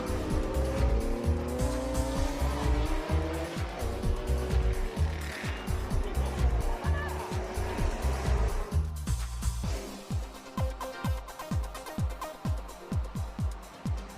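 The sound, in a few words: historic Japanese race cars at Tsukuba circuit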